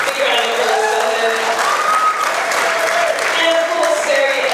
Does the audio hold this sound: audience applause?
yes